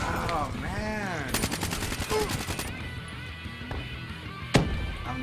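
Rapid automatic gunfire in Call of Duty: Black Ops 3 comes as a fast, loud burst of shots, with a single sharp shot later. Voices and in-game sounds run underneath.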